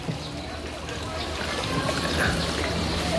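River water trickles and gurgles steadily in an outdoor setting near water buffalo, with a continuous soft flow that grows slightly louder toward the end.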